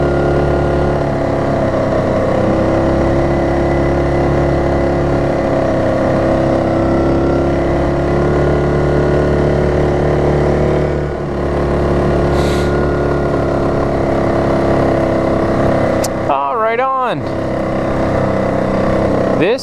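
An ATV engine drones steadily and loudly while riding a groomed winter trail between houses. The motor hum stays continuous throughout, with a brief squeaky chirp near the end.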